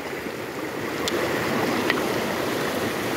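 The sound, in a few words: flowing water at a river bank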